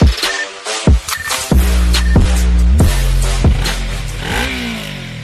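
A Yamaha R3 motorcycle engine revs up hard several times in a row, each sharp rise in pitch ending in a clattering drop, loud and close with no talking.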